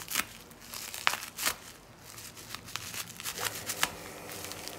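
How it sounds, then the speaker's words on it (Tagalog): Scissors struggle through packaging wrapped in scotch tape, giving a series of irregular crinkling, crackling and tearing bursts of plastic and tape, close up with short pauses between. "Bakit kasi nilagyan ng maraming scotch tape? Tapos ang aking gunting ay hindi makagunting."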